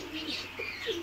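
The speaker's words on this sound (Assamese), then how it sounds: "তো ইয়াত আছে আমাৰ পাৰ চৰাইখিনি।" Fancy pigeons cooing in a farm room, a few soft coos and chirps close by over a steady faint background, no talking.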